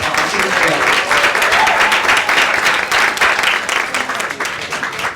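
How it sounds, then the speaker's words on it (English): Audience applause at a 2023 side event, a dense, steady wash of many hands clapping that keeps going at full strength for the whole stretch, with no talk over it. "please give her a round of applause"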